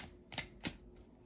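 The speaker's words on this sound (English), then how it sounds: "I actually was shuffling these without noticing" Oracle cards being shuffled by hand: a couple of brief, crisp papery riffles close by and quiet, separated by short pauses, with no speech.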